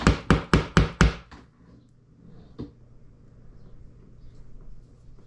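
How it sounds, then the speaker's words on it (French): A phone knocked against a wall: five quick loud knocks in a fast even row, close by, followed by one fainter tap and low background murmur. "Je vais le taper un peu contre le mur."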